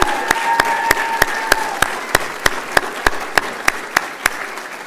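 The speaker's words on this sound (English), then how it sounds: "another round of applause for all these faculty and staff" Commencement ceremony audience applauding faculty and staff: steady, roomy clapping from a large crowd, with a regular series of sharper individual claps standing out near the microphone.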